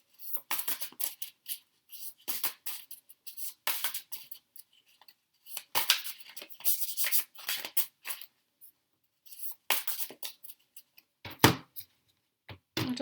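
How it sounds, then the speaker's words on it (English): Tarot cards shuffled by hand in bursts, crisp riffling and flicking papery snaps in several separate runs with short quiet gaps between, close and fairly soft. "give the cards a quick shuffle for Pisces."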